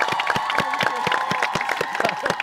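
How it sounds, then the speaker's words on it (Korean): Applause and cheering from a studio audience at a Korean trot music show, dense rhythmic clapping filling the room throughout without a break, loud and steady, with crowd noise mixed in. "큰 박수로 정해드리겠습니다"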